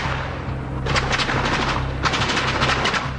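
A barrage of rapid automatic gunfire from a house about a block away, two dense bursts of fast overlapping rounds with a buzzing, tearing quality, loud and continuous over a low background hum.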